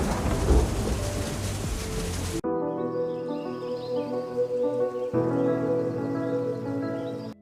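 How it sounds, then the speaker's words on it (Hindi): A thunderstorm sound effect for a story opens with a loud crash of thunder over heavy rain, then steady rainfall continues under soft tonal background sound with another rumble midway. "तभी नदी उफन पड़ी, आसमान गरजा, भयंकर बवंडर उठा।"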